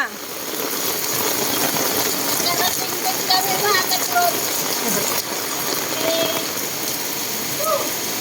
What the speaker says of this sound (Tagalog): Ganyan kalakas ang buhos ng ulan.